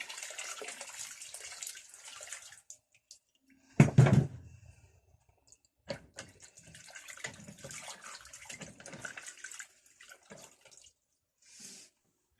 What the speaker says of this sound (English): Give that a little bit more water just to warm it up.